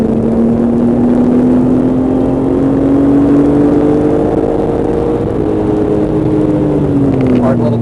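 A race car cornering at Portland International Raceway, heard from onboard as a loud steady engine drone whose pitch slowly rises and then falls, with a driver talking over it.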